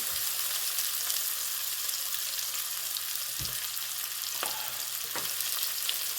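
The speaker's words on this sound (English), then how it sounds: "So let the onions brown up." Onions frying in a pan for a chicken dish, a soft continuous sizzle with a few brief clinks of a utensil, quiet and steady with no talking.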